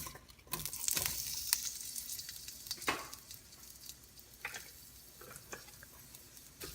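Onions sizzle and crackle in hot vegetable oil in a pan, a soft, steady frying hiss with occasional sharper pops and light clicks of a utensil against the pan.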